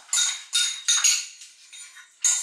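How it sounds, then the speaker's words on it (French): Blanquette de veau being stirred into its sauce in a pot with a metal utensil, giving a run of bright clinking, scraping strokes in uneven bursts, close and fairly loud, with no talking. "Maintenant, je vais mélanger avec ma sauce."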